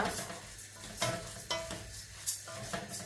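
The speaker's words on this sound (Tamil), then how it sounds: "அரிசி அந்த பொரியிற சத்தம் கேட்குது பாருங்க" Rice crackles and rustles as it dry-roasts in a pan for Sri Lankan Jaffna-style nutritious flour, with a spoon scraping through it in steady strokes about every half second.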